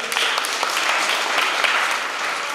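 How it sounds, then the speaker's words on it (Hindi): An audience at a college motivational talk breaks into lively, continuous clapping that fills the room for a couple of seconds, with no voices over it. "इनके लिए तालियां।"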